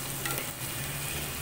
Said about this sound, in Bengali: এই যে দেখো এখন হচ্ছে ভাজাটা একদম ভালোভাবে